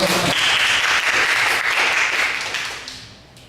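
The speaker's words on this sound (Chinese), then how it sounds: "我们给自己一个掌声，好不好？" Sustained audience applause inside a church during a Mandarin Sunday worship service, a dense steady wash of many hands clapping that holds strong for about two seconds and then gradually fades away.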